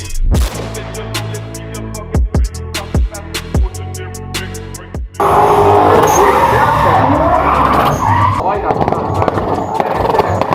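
Drift car on a test run at Summer Bash 2022 Red Bull Car Park Drift, first a series of sharp engine rev bursts with gaps, then a loud sustained tire squeal and engine roar as the car slides, with voices under it.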